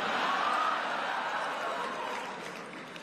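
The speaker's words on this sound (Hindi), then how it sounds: "तालियां तो अब बजने वाली है।" Applause from a crowd of Indian community members at a prime ministerial address in Germany, a dense continuous wash of clapping that holds steady and then slowly fades.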